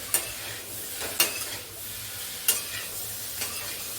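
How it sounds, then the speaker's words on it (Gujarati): A parwal and potato curry with chili fries in a pan while a spoon stirs it, producing a soft, steady sizzle with four sharp scraping clinks of the utensil against the pan, close but fairly quiet. "મરચું નાખ્યા પછી બરાબર પાકને હલાવી દો"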